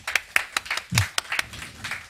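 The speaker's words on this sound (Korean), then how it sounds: "다시 한번 우리 교육부서 자녀들과 교육부서 섬기는 선생님들께 감사 박수 한번 하겠습니다" A church congregation claps in thanks for the teachers and children of its education department, a loose burst of handclaps with sharp individual claps standing out, moderately close, with no talk.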